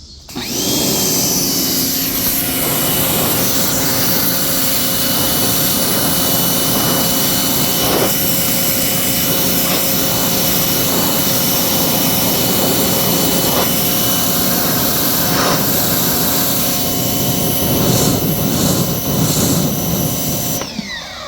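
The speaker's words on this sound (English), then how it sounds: "I'm gonna power wash it for a bit and see." A pressure washer runs continuously while spraying down a wooden deck after a second coat of Cabot stripper, a loud, steady high-pitched hiss and motor drone that holds for the whole stretch with slight surges.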